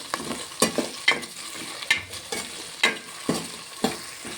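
Carrot and potato pieces frying in a pan, a soft continuous sizzle broken by regular sharp scrapes and clinks as a spoon stirs them, close and clear with no talking.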